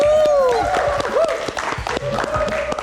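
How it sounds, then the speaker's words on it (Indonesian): A studio audience at a live Indonesian television talk show claps and cheers in a dense burst of applause, with a host's voice talking over it. "Mana tepuk tangan sekali lagi?"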